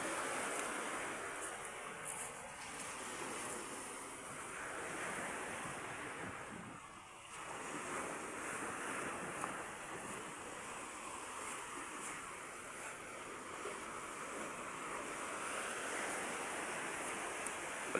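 Sea waves crash and wash against the shore in a steady, loud roar of surf with wind blowing across the microphone, no talk throughout.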